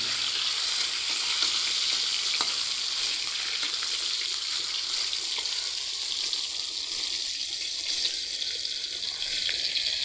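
Large pieces of katla fish fry in hot oil, giving a steady, bright sizzle and crackle that stays up close and unbroken throughout, with no talking over it.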